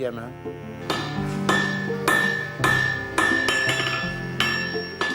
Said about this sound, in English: Lucien Marnet pounds on his anvil.